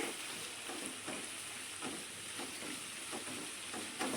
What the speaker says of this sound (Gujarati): હવે થોડીક વાર માટે આપણે એને સાતળી લઈશું આવી રીતે